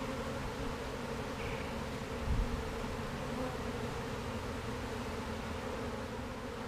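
Honey bees in an opened, pollen-bound hive fill the air with a dense, steady buzzing drone, close and continuous, with one brief louder bump partway through and no talking.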